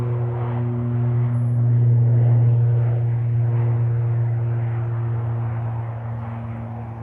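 A Ryanair ATR turboprop landing at Manchester Airport produces a steady droning hum with a strong low propeller tone that swells and then eases off slightly over several seconds.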